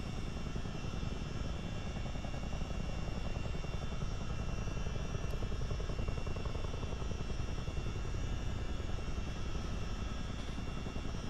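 A CH-47D Chinook twin-rotor helicopter in a flight simulator gives a steady, loud throb of rotor beat and engine whine, unbroken and with no voices.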